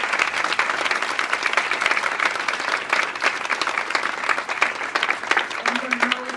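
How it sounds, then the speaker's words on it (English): An audience at a Black History Month event bursts into steady, loud applause, dense clapping filling the hall continuously for several seconds. "Give him a round of applause for"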